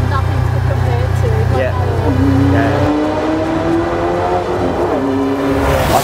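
A Brabham BT19 race car revs hard on a drive in Adelaide, its engine note climbing through the gears in loud, rising sweeps, close and dominant, with a voice briefly audible underneath.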